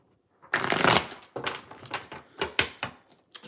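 A thick-stocked Energy Oracle tarot deck being shuffled by hand, a burst of riffling followed by a series of shorter card slaps and flicks, close and fairly loud with no talking.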